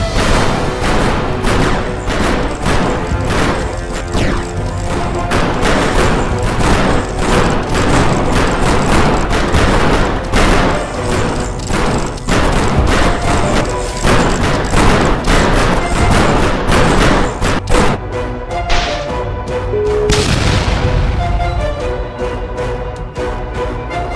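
Gunfire in a war scene from a roleplay video game, with dense rapid bursts and heavy thuds and booms packed tightly together, loud and continuous, thinning out in the last few seconds.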